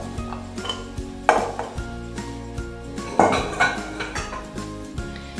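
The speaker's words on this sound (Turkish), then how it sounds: "Artık fasulyeleri ekleme zamanı geldi" Green beans tipped into a pan of sautéed onions and stirred, giving a run of close metallic clanks, knocks and rattles of utensil on pot, with two louder bursts of tumbling clatter.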